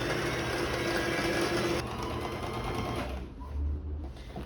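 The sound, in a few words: sewing machine sewing a top stitch on pants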